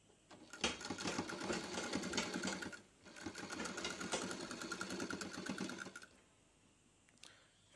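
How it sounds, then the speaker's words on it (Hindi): A tailor's sewing machine stitches along a marked line on a pant leg, two close bursts of rapid rattling stitches separated by a short pause, then quiet at the end; no talking. "दूसरे पैर के मार्किंग पे हम लोग मार रहे हैं सिलाई।"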